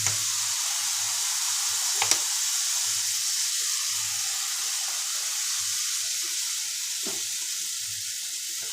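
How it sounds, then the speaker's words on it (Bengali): Jalebi frying in hot oil gives a steady, close sizzle and hiss throughout, with a couple of brief clinks of a utensil and no talk. "এটা হতে হতে আমি আরো কটা ভেজে নেব।"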